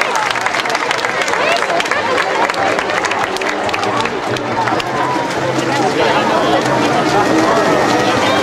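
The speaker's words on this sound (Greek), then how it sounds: "Να τους δώσουμε ένα χειροκρότημα" An audience at a dolphin show in Attica Park claps and cheers, a dense, loud burst of applause and crowd noise that holds steady throughout, with voices mixed into the din.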